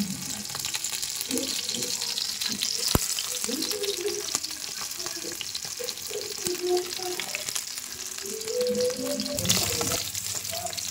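Non-vegetarian food fries in a pan with a steady close sizzle and crackle, and occasional stirring knocks underneath.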